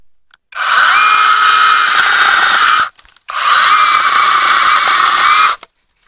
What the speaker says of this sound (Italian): eliminarli tutti con questa mini motosega a batteria